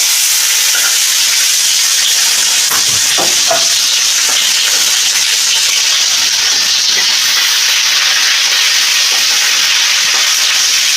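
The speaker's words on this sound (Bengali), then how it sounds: "ভালো করে ভেজে নিচ্ছি স্বাদ মতো নুন দিচ্ছি যাতে টমেটোটা তাড়াতাড়ি সেদ্ধ হয়ে যায়" Cumin seeds and tomato fry in a pan with salt, giving a loud continuous hiss and sizzle with a few soft stirring scrapes.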